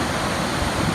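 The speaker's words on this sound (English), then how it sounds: "this is the volume of water that is currently being let out of the dam" Floodwater released from the Cairn Curran dam rushing downstream, a dense, continuous broadband roar like heavy surf, loud and close throughout the brief moment.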